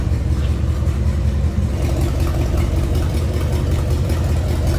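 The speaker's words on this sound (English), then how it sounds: "Little rumble coming out of that 352." A 1962 Ford Galaxie 500 Club Victoria with a 352 V8 and Cruise-O-Matic automatic transmission idles with a steady, deep, close rumble that stays even and unbroken throughout.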